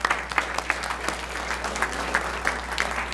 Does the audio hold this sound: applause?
yes